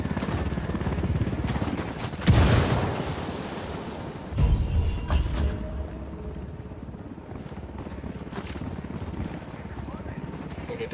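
Grenade blast and gunfire in the shooter game Ghost Recon Wildlands: a heavy burst at about two seconds and another near four and a half, with sharp shot-like cracks later over a steady rumbling backdrop and some voices.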